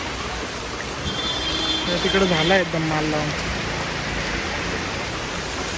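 Heavy rain pours down in a continuous broadband roar, with a person speaking partway through over the steady downpour.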